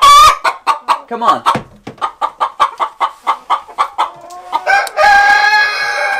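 A hen beside roll-away nesting boxes clucks loudly and rhythmically, a rapid series of close, sharp calls building into a drawn-out squawk, with a person briefly speaking over it.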